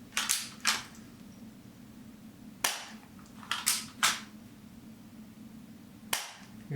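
A Galaxy M&P 9 gel blaster fitted with a blackout kit fires through a chronograph: sharp, close cracks come singly and in quick pairs, about seven shots in total, separated by quiet pauses over a low background hum.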